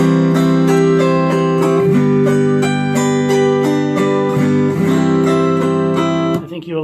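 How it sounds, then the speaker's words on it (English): Autoharp fitted with a bar magnet pickup, played through an acoustic amp: strummed chords ring out loud and sustained, with repeated strokes and chord changes and no talking over it. "This is our trusty Autoharp with a bar magnet pickup in it."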